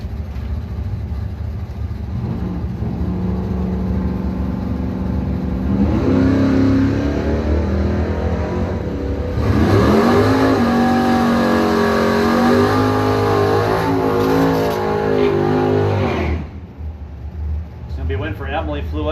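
Drag racing cars revving and launching down the strip in a Pro Systems bracket semifinal, a loud sustained engine roar that rises and swells over about fifteen seconds, with an announcer talking over it before it drops away.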